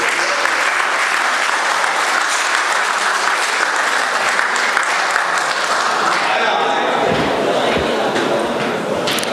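Loud, sustained applause from an audience at a mushaira poetry gathering in Sharjah, dense clapping filling the room for several seconds before thinning slightly near the end.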